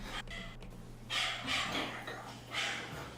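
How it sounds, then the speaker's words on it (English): A dog barks three times in short, muffled bursts, sounding somewhat distant and flat, over a steady low electrical hum. "That barking also sounds insanely like a recording."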